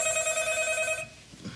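A telephone rings late at night, with a bright electronic trill that stops abruptly partway through and leaves quiet room tone behind.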